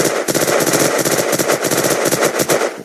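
Automatic gunfire from the Unturned video game comes in rapid bursts of loud, sharp shots. The rhythmic reports repeat through the whole stretch, and no one speaks over them.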